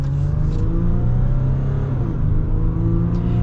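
A 2021 Ram 1500 Rebel EcoDiesel truck accelerates hard, its diesel engine droning low and steady with a rising pitch, loud and close from inside the cab.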